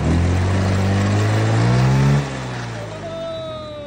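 A Yamaha Ego S scooter engine revs loudly up and then drops back to a lower idle, close by, with a brief higher whine trailing off near the end.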